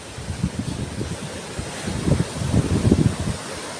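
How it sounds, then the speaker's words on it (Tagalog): Gusty amihan monsoon wind buffeting the microphone on a coast near Burias, with low rumbling bursts of surf and wave noise swelling and fading in uneven surges. "malaki yung alon, lakas yung hangin"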